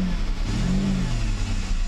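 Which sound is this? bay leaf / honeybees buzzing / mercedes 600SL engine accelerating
mercedes 600SL engine accelerating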